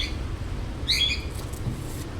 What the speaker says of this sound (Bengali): কি সুন্দর কোকিলের ডাক শুনছিলাম